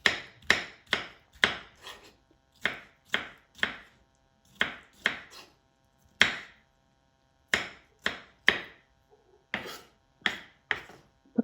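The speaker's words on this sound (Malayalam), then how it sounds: "കുക്കുംബറെല്ലാം അരിഞ്ഞു കഴിഞ്ഞു." A knife chops cucumber on a cutting board in crisp, close taps, usually in quick clusters of two to four, separated by short pauses across the whole stretch.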